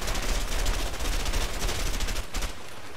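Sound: gunfire in the video game A Way Out

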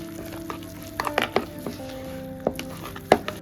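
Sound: beating bok flower fritter batter by hand

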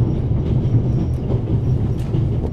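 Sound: train rattling along on the rails, from video game The Raven

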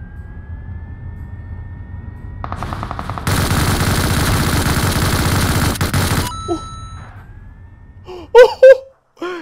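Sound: gunfire in the video game PUBG Mobile

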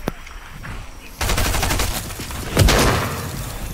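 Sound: gunfire from the video game Fortnite

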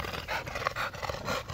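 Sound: Old English Bulldog panting

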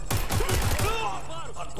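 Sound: gunfire exchange in video game

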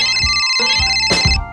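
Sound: phone ringtone ringing

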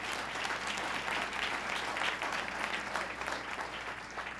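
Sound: audience applause

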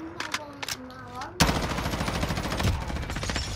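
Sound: gunfire in a video game

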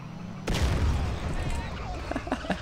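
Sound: grenade explosion in video game GTA San Andreas

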